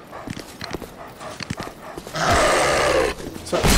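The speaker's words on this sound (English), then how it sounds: "Another dog!" A dog in the Dark Souls II video game, in the Lost Bastille area, letting out a loud snarling growl after a stretch of scuffling game sounds and footsteps, then a second short burst.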